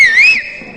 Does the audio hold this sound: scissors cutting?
no